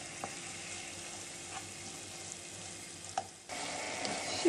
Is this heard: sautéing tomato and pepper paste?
yes